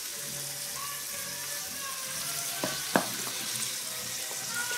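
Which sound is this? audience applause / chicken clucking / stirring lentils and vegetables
stirring lentils and vegetables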